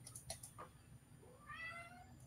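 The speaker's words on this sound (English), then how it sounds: "That's my cat." A pet cat lets out a soft, drawn-out meow near the end, faint and somewhat distant against a quiet, low background hum.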